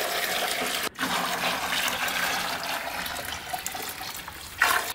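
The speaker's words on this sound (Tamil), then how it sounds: "இப்போ காய வச்ச தண்ணியை ரெண்டு பக்கெட்டில் தனித்தனியாக ஊற்றிக்கிறோம்." Hot water pours steadily into buckets for fabric dyeing, making a continuous rushing, gushing stream that pauses briefly near the start and then resumes, with no voices.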